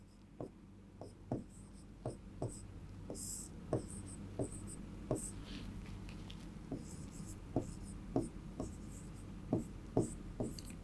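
Chalk or marker strokes on a board in a Class 12 chemistry lecture on surface chemistry, a steady series of short, crisp taps and scratches repeating roughly every half second, close and clear with no talk over them.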